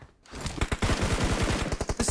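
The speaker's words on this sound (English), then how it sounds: "there's somebody shooting down the street" Rapid automatic gunfire from a video game, a sustained burst of sharp shots in quick rhythm after a brief quiet start, loud and close with no talking.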